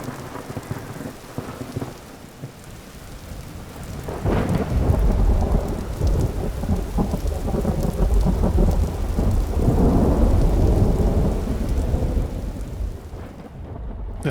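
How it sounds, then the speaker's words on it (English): Thunderstorm in Vintage Story: steady rain hisses on surfaces, then a heavy rolling thunder swells loud and rumbles on for many seconds before easing, with no voices. "The thunderstorm set the stage for what happened next."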